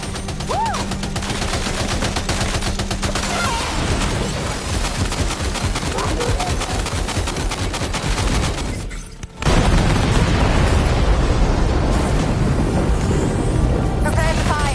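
Gunfire and explosions in the Death Stranding 2 video game, sustained rapid automatic fire with heavy booms, loud and dense, cutting out briefly before a still louder roaring barrage resumes, with voices heard in the mix.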